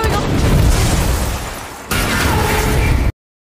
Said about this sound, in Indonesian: terjadilah ledakan yang menyebabkan beberapa dari mereka tewas